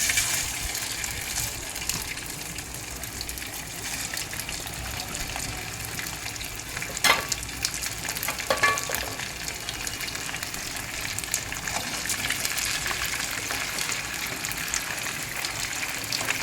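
Chicken leg pieces fry in half a kilo of hot oil, giving a steady, loud bubbling sizzle that runs throughout with a couple of sharper crackles partway through.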